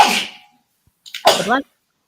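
A single sharp sneeze bursts out at the start, followed after a short pause by a few words of speech.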